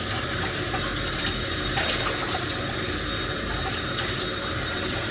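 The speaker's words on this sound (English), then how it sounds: "Give it a quick rinse." A jug being rinsed under a running kitchen tap, steady water rushing and splashing without a break, close and fairly loud.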